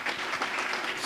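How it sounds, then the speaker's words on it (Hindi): Brief burst of audience clapping at a training seminar as someone is called onto the stage, dense and fairly loud for about a second. "तालियां जोरदार इनके लिए"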